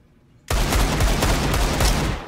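Gunfire in Counter-Strike 2 bursts in suddenly after a quiet start, a loud rapid string of shots and a dense crackling volley for about two seconds, close and fading slightly at the end.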